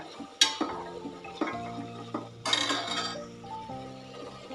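Utensils clink and scrape against a pan as Kabuli chickpeas are stirred and fried in oil with tomato, producing several sharp metallic knocks over a faint sizzle.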